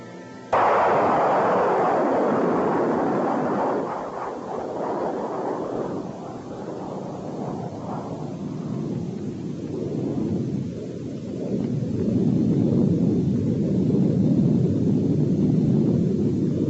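A Nike Hercules missile launches with a sudden loud blast, then a long roaring rumble that slowly fades and swells again as the rocket climbs away.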